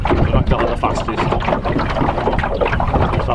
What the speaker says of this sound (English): I've only got electric engines on here.